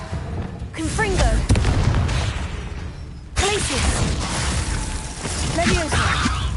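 Blasting spell explosions in the Hogwarts Legacy video game, a dense stream of booms and crackling bursts with a sharp onset midway, set against a continuous roar of game combat and effects.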